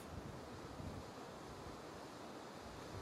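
Steady broadband roar of ocean waves breaking on a shore, mixed with wind noise on the microphone; a continuous, fairly faint wash with no distinct individual breaks and no voices.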